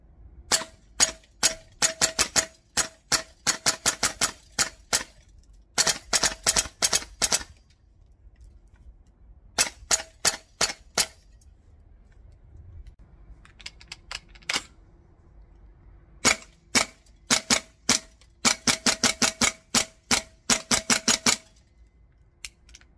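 Tokyo Marui URGI and Double Eagle Noveske gas blowback airsoft rifles fire in sharp, crisp bursts of rapid clacking shots, separated by pauses, loud and close outdoors.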